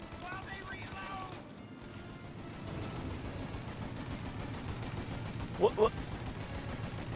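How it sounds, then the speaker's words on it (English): Steady bursts of gunfire rattle through a shootout in the video game Mafia Definitive Edition, with dense layered shots and a couple of louder nearby cracks near the end as a voice briefly speaks. "Shoot out your gun when there's a break in the fire!"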